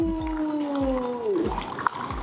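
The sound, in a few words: water purifier dispensing cold water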